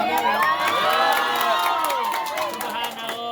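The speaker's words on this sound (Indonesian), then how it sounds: "Boleh tepuk tangannya." Wedding guests at a village ceremony in Kampung Tajursela clap and cheer together, a dense continuous roar of applause with whoops and shouts, loud and close throughout with voices mixed in.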